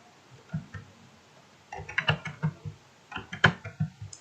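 Computer keyboard keys are typed in bursts while entering input into Maple math software: a few isolated clicks first, then a rapid run of close, crisp keystrokes with short pauses, with no talking.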